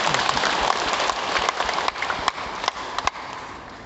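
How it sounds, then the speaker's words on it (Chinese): An audience at a Tao Te Ching class in a temple hall applauds, with dense, steady clapping throughout that thins slightly toward the end. "我给大家掌声先"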